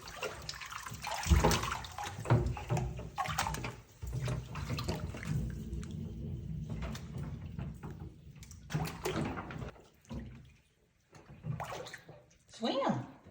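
Water sloshing and splashing as a monkey (capuchin or spider monkey) plays in bath water, irregular bursts throughout, with a person talking encouragingly over it.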